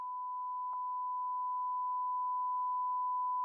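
A steady censor beep tone sounds loud and unbroken over swearing during a live gaming stream, with a small click partway through.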